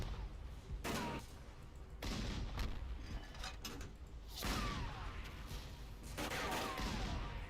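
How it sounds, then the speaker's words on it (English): Tank turret cannon fire in the Forgotten Hope game: several loud, broadband booms spaced a few seconds apart over continuous battle noise and rumble, with distant gunfire crackling in between. "I might actually just switch to the cannon on the turret"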